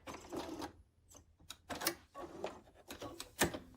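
A sewing machine stitches a quilt seam in short, quiet bursts of rapid mechanical chatter with brief pauses between runs, heard close and alone.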